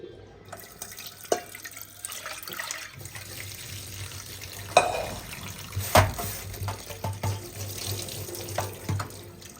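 Tap water runs steadily into a sink in a home kitchen for washing up while making handmade atta noodles, with close splashing, drips and a clatter now and then.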